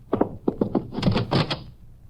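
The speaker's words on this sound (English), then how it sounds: "I heard a door close." A door closes in a 1951 Texas Rangers radio drama, heard as a short cluster of close wooden thunks and knocks, a few quick hits followed by a heavier shutting bump, with no voices.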